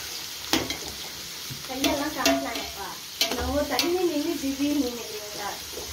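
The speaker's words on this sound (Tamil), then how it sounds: "ஆனியன்ஸ் போட்டு நல்லா சாட்டே பண்ணிக்கோங்க" Onions for chicken biryani sauté in a hot pan, sizzling steadily while a utensil scrapes and clinks in several brief stirring bursts, close by.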